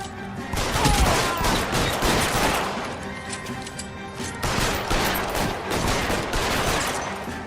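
Sustained gunfire in the video game L.A. Noire, dense rapid volleys of shots crackling almost continuously with a brief lull midway, loud and close.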